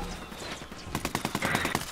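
Rapid burst of gunfire in the video game Ghost Recon Wildlands during co-op play, a quick string of sharp cracks fired in close succession over game background noise.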